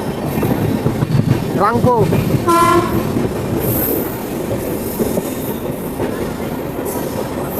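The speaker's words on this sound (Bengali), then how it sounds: "আমাদের ট্রেন এখন ক্রস করছে তিস্তা রিভার" Kanchankanya Express rolling on rails near the Teesta river crossing in the Dooars, with a loud horn blast, squealing wheels and steady rumble; a voice speaks briefly.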